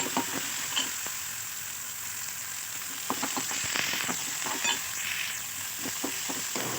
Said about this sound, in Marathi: हळद आणि तिखट तेलावरती परतून घ्यायचं